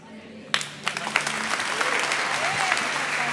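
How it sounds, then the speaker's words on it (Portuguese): A church congregation at Lagoinha breaks into sustained applause that starts abruptly and holds steady, a dense wash of many hands clapping together. "Vamos aplaudir a Paty aqui, gente."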